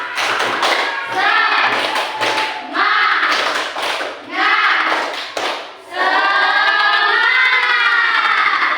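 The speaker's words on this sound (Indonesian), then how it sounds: "Tepuk semangat." A classroom of pupils performs a rhythmic spirit clap, with bursts of quick claps and thumps broken by short pauses and chanted voices.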